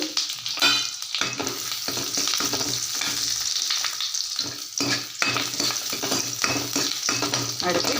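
Cinnamon, cloves, ginger and garlic sizzle in melted butter for hotel-style paneer butter masala, a close bright crackle broken by rhythmic stirring scrapes of a spoon against the pan.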